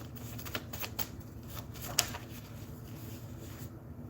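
Rapid papery riffling of playing cards being shuffled and drawn at a table, a steady flutter of soft flicks with one sharper snap, fairly quiet and with no talk.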